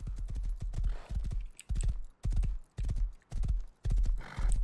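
Horse hooves clip-clopping in the survival video game Rust, a steady run of close, loud thuds broken by brief pauses, with a whinny near the end.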